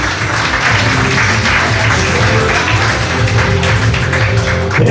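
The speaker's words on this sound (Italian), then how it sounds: "Scaldiamo l'atmosfera con un applauso" Loud, dense applause fills the room at a Miss & Mister Model Italia selection evening in Calcinato, Brescia, where a large crowd claps steadily for five seconds with a low murmur of voices underneath.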